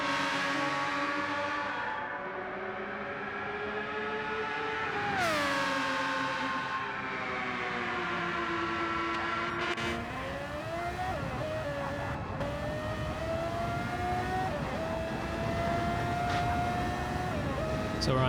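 A race car engine screams through an onboard qualifying lap around a track, rising and falling in pitch through shifts and corners, loud and continuous with commentary talking over it.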